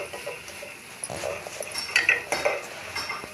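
A spoon stirs grated coconut and salt in a metal pot, giving soft scraping with a few light clinks that grow busier toward the end, close and alone with no voice.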